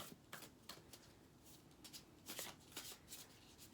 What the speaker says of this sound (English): I am going to pull 1 or 2 more cards from my Lightseers deck